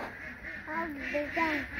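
A few duck quacks rise in a short burst over a steady background hiss, with faint activity around them, on a farm in winter.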